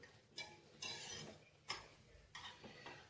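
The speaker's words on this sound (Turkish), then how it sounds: "Bakalım birazcık böyle karıştırayım." Spoon stirring food in a pot or pan during home cooking, heard as a few short scraping bursts with pauses between them, close and fairly quiet, with no talking.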